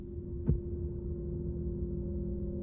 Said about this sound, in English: the heartbeat that opens up this game